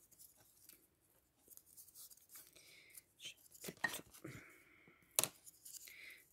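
Scissors snipping paper while making a handmade card, several short quiet cuts in bursts separated by pauses, close by with no talk.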